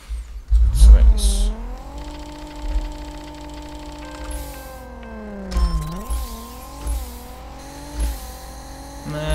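Engine of a drag car in the Racing Rivals video game revs and accelerates through several rising pitch sweeps, with gear-change dips and clicks between them. Loud and close, with occasional quiet talk.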